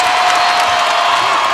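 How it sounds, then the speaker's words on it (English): A basketball arena crowd roars and applauds after a made shot, a loud, dense wall of cheering that holds steady throughout. "And the crowd goes crazy!"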